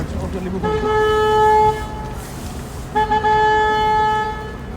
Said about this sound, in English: At this particular stop, I have to honk my horn.